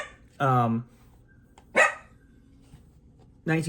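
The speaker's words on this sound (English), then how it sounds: "My dog is barking because a neighbor dog is barking" A pet dog barks loudly and close by, answering a neighbour's dog: three sharp separate barks spaced over a few seconds, with faint background noise between them and no talk.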